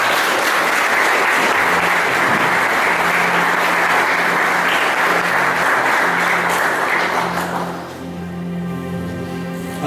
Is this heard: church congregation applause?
yes